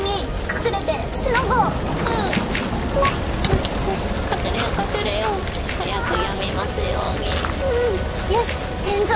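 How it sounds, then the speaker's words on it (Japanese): Heavy typhoon rain pours steadily in Minecraft, a dense hiss with wind and scattered drip and splash noises running throughout, while young voices chatter over it. "雨もすごいし風もすごい。"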